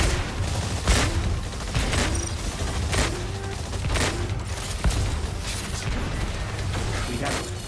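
Heavy artillery fire in the Exoprimal video game, a series of booming blasts at roughly one-second intervals over a dense rumbling battle din, with faint game voices in the mix.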